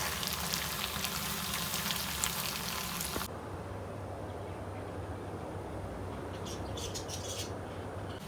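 Bottle gourd (lauki) fries in a pan with a steady crackling sizzle, louder at first and then settling into a softer continuous hiss with a low hum beneath.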